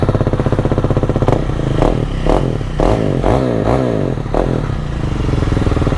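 A KTM Duke motorcycle fitted with a new exhaust starts and settles into a loud, close, lumpy idle with sharp rhythmic blips and rattling pulses, no one speaking.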